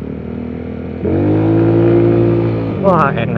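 A bore-up, fuel-injected Yamaha Mio scooter engine revs on a test ride, its steady drone jumping louder and higher after a second and holding close, with someone briefly speaking over it near the end.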